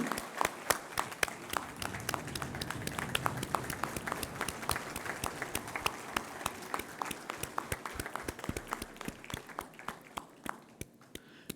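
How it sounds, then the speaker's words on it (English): Audience applause at a university convocation as a standing ovation for a Prime Minister, sustained clapping from a crowd, fairly distant, gradually thinning toward the end. "Please give a standing ovation to him."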